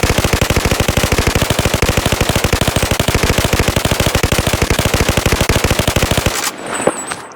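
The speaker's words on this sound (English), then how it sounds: "This is a very fun gun to use. It has a 100-round magazine, and it's very lightweight." A light machine gun with a 100-round magazine in the VR game Boneworks with a Modern Warfare mod fires a long, rapid, evenly spaced burst for about six seconds, then stops abruptly, leaving a brief quiet mechanical clatter.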